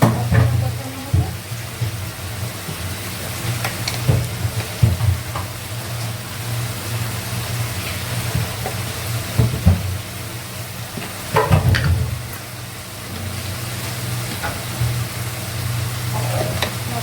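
Spices, ginger paste and potato sautéing in a pan, with a steady sizzle and frequent stirring and scraping throughout. The cooking is close and continuous, and faint voices sit in the background.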